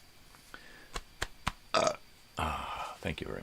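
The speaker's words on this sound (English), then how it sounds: "I had to burp myself." A man burps aloud several times in short bursts, the last ones longer and rougher, with bits of voice and noise around them.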